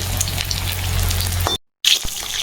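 Taro stem fritters, kochu data bora, fry in hot oil with a loud, dense, close sizzle that breaks for a brief gap and then resumes, with no talking.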